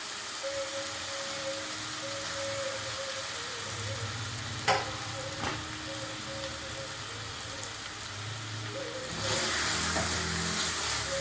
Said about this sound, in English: Let us add it to the oil and saute it very well.